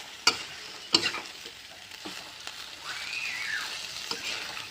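Cabbage being stir-fried in a pan, an even low sizzle broken by a few sharp clanks of the spatula against the pan, close and with no speech.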